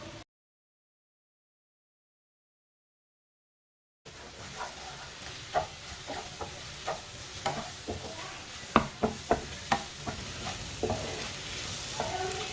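Eggs with chillies sizzle and fry in a pan while being stirred, with repeated scraping strokes over a steady hiss, close and clear. A few seconds of silence come before the cooking sound begins.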